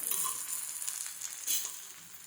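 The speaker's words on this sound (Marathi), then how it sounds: "आता याच्यामध्ये पण थोडं थोडं तेल सोडून घेऊ" Bottle gourd and curd flatbread (dhapate) frying in oil on a pan, a soft, even sizzle close by, with a brief louder crackle midway and no talking.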